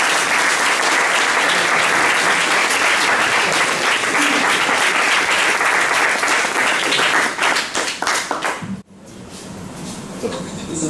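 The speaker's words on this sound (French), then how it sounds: "Je vous demande de l'applaudir très fort." Audience applause at a high-school award ceremony, loud sustained clapping from a crowd lasting about nine seconds before cutting off abruptly, followed by quieter room sound.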